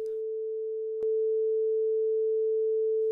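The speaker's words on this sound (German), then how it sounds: "höre ich eine sinusförmige Welle auf dem linken Kanal" Steady pure sine tone from a synthesizer patch in a classroom sound-programming exercise, holding one pitch for about three seconds, with a brief click about a second in.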